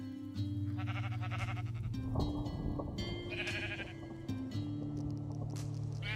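Sheep in the Minecraft video game bleat several times over steady game background sound, the calls moderately loud and close with short pauses between them.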